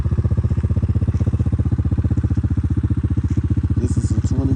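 A 2020 Kawasaki KFX 90 ATV engine runs at a steady idle close up, with a fast, even putter and a faint clatter, and no voices over it.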